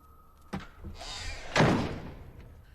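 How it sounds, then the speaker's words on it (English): A door in a horror film closes with a sharp knock and then a heavy slam, followed by a lingering rumble that fades, clear and up front with no talk over it. "Did she slam the door, or did that just do it by herself?"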